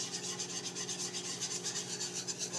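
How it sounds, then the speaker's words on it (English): A whisk scrapes in small rhythmic circles through a thickening flour and butter roux in a pan, a soft, steady, close rubbing with regular pulses. "I'm constantly going to be stirring the flour and the butter together with the whisk"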